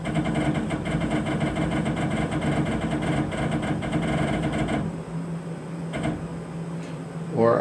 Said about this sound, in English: I'm going to do that by clicking on the X-axis, and I'm going to use the jog wheel to do that